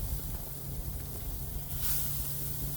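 Raw shrimp hit the grates of a hot Weber gas grill and sizzle in a steady, close hiss with a brief louder flare partway through.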